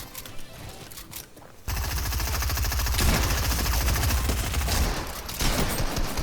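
Loud, dense bursts of rapid machine-gun fire in a duos battle-royale video game match, lighter shots at first, then a steady close barrage that runs continuously.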